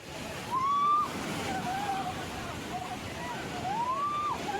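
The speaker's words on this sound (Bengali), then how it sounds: "ঢেউ জোয়ার কিন্তু অনেকটাই" High-tide sea waves on Digha beach form a steady broadband wash of surf, with a louder surge near the start and faint voices or whistling tones drifting over the roar.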